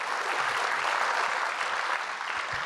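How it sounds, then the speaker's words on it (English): An audience at a Long Beach civic event claps in sustained, dense applause that stays even and fairly loud throughout, with no voices over it. "Let's give everyone a big round of applause for their work."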